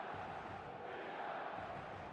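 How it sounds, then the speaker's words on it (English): Steady roar of a packed stadium crowd in an eFootball match, a dense, continuous wash of cheering and chanting at moderate level with no breaks. "The stadium is full of noise and energy."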